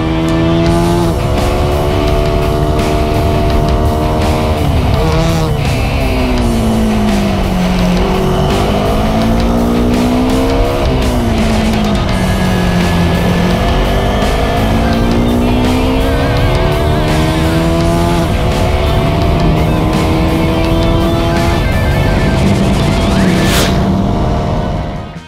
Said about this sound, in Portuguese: esse ronco grave é característico das monocilíndricas